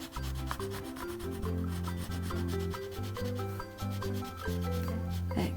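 A brown Neocolor II water-soluble wax pastel rubs across paper, making continuous soft, scratchy drawing strokes over a quiet, steady tonal background.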